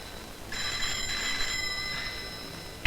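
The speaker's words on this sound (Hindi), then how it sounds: "किसी संजना रॉय का फोन है" A telephone bell in a Hindi film scene starts after a short quiet moment, a bright, buzzing ring that carries on for about two seconds with a brief break partway, fairly close and clear with no talking.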